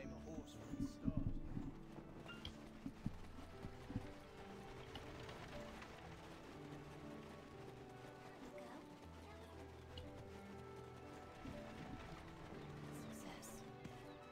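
Horse hoofbeats clip-clop at a steady trot in Black Desert Online Remastered, amid game music and mechanical clicking, moderately loud throughout.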